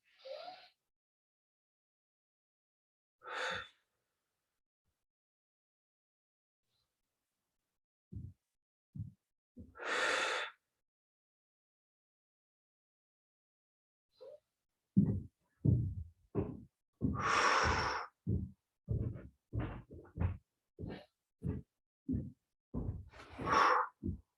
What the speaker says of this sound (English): Just full inhales and exhales.